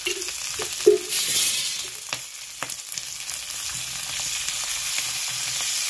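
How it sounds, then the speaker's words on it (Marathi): Green chilies roast in oil on a hot griddle used for millet flatbread, giving a steady close sizzle with a few sharp pops and crackles near the start. "तर चांगलं तेल टाकून आहे ना आपण मिरच्या चांगल्या भाजून घेऊ."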